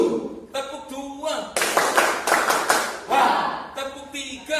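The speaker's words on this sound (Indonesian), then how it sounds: "Tepuk tangan." A group claps hands rhythmically during a classroom ice-breaking game, a dense burst of claps between stretches of voices, fairly close and lively.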